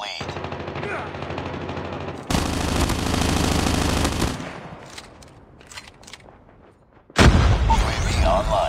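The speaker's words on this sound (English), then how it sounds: "Sentry gun deployed." Sentry gun from Call of Duty Mobile firing in long rapid automatic bursts, loud and close, with a brief lull between volleys and a fresh burst near the end amid game effects.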